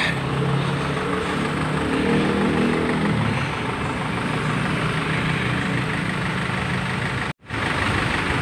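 A Trans Pakuan bus engine idles at a BRT stop: a loud, steady, low rumble that runs continuously, with one brief dropout near the end.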